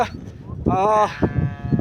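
A flock of sheep at a drought-stricken pasture, one animal letting out a short, near, wavering bleat amid low rustling and scattered background noise.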